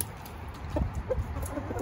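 Backyard hens cluck in short, soft bursts close by, with a few scattered calls over a quiet outdoor background.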